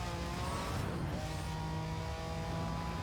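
A Lamborghini Countach in Need for Speed: Hot Pursuit drones steadily at close range, its engine tone shifting once partway through with a hint of tire noise.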